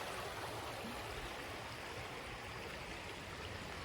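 Water of a natural forest stream flows in a steady, unbroken rush, a soft close wash with no voices over it.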